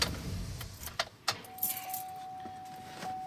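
A GMC Yukon XL with a transfer case fault is switched off, the engine rumble fading as keys jangle in several quick metallic bursts, followed by a steady chime tone.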